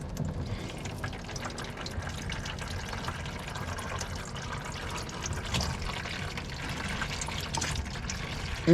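Fluid drips and drains steadily from a pan under a 1972 Dodge D100 truck, a continuous close trickling splash with no talk.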